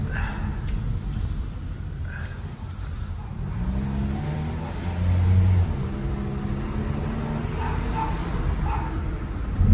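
A Toyota Vios with a 2NZ engine, which has a check-engine fault and shift shock in drive, is driven on a road test. The engine hums steadily, then rises and dips slightly as it changes gear, with a voice speaking faintly underneath.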